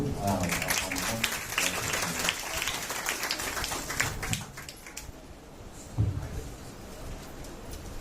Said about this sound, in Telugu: దయచేసి అందరూ చప్పట్లు కొడుతూ